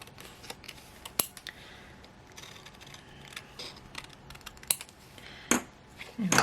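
Scissors snip along a paper wing shape for a junk journal page, a series of soft, close crisp cuts and small rustles, with a few sharper clicks standing out.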